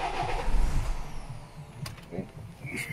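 A Nissan X-Trail engine cranks and catches with a low rumble, then settles briefly, with faint clicks and some background noise; the car has a replacement used ECU and the air filter removed.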